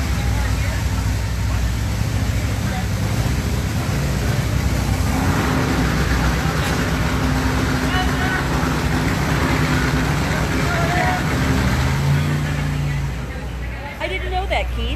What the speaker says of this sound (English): Hear the cranking up top fuel.